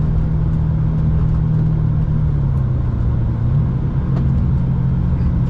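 A Ferrari 456 GT engine runs steadily from inside the car while driving, a loud continuous low rumble with a slight pitch change midway, no voices.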